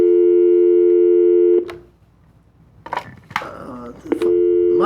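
Mobile phone call tones: a loud, steady electronic tone that cuts off, then brief beeps and handling noises follow before the same tone returns, with no one speaking.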